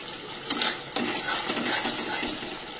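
Spice paste of ground chili and ginger being stirred and fried in a pan, with steady sizzling and repeated scraping of a spoon against the metal, a few sharper clinks standing out, close up and with no talking.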